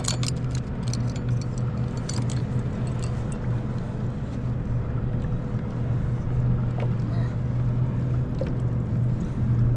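A steady low engine drone hums across the water, constant and moderately distant, with faint rattling and wind noise over it.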